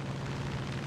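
Rocket explosions in the War Thunder tank game, heard as a continuous booming rumble of blasts, loud and close, over the whole short moment with no talk.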